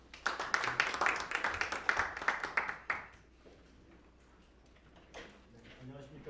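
Lively clapping from an audience at a political seminar in Korea welcomes a lawyer as he takes the stage. It fades after about three seconds, followed by quiet room sounds and a voice beginning to speak.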